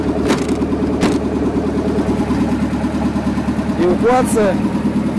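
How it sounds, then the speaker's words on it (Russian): A diesel vehicle idles with a steady low rumble beneath continuous close-up speech in a tight, enclosed space during an evacuation. "Подъехал дизель."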